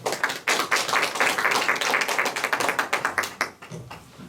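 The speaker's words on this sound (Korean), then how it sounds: "큰 박수로 모시겠습니다" Applause from a lecture audience welcoming a history professor, a close burst of many hands clapping throughout that thins out toward the end.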